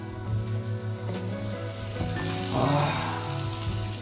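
Steady sizzling of garlic frying in a hot pan over medium heat, a constant crackle with occasional louder spits and stirring clatter, no voices.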